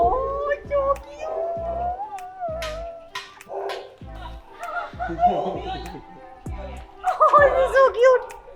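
Several cats at a rescue farm meow at close range, with rising and falling cries over soft bumps and handling noises, while voices are also heard nearby.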